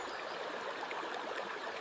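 A snowy forest creek flows steadily below, a continuous broadband rush of running water with no voices, even and moderately loud throughout.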